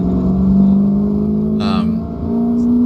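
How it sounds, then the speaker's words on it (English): A race car engine drones steadily and its pitch rises as the throttle opens between corners on a track, heard from the cockpit with a brief higher whine partway through. "starting to pick up the throttle a bit more in between corners"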